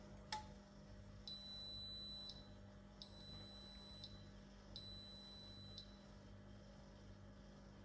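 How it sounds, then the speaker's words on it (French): Three evenly spaced electronic beeps from a Sage Tea Maker signalling the tea is ready, each about a second long, high and fairly faint over a low hum, after a single click at the start. "On a pu entendre les 3 petites sonneries qui nous préviennent donc que le thé est prêt"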